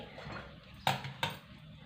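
Utensil stirring besan flour roasting in a pan, two quick close metallic taps against the pan over a soft background hiss.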